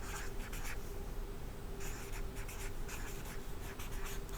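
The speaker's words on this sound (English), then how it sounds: "So I'm just going to write that for you." Pen or pencil writing on paper at a classroom story-map lesson, a steady scratching run of strokes with short pauses, close and fairly quiet, with no voices.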